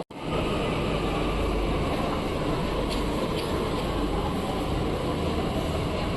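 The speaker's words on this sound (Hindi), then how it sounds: "ये गेट खुल चुके हैं और ये वाली हमारी मेट्रो आ गई है" A Delhi Metro train pulls in at a platform and its doors open, a steady loud rumble of rolling stock and station noise with a couple of faint clicks, no talk over it.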